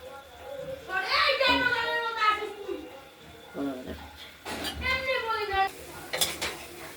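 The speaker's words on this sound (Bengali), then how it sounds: "সর্ষে শাকটা আমরা একটু নেড়ে চেড়ে দেবো" Mustard greens with their flowers are stirred in a pan with a utensil, giving scraping clinks and rattles while someone talks continuously over them, close by.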